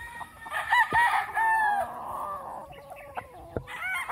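A Kelso gamefowl rooster crows nearby on a farm in Bukidnon, a drawn-out call, followed by scattered clucks and other fowl sounds in the background.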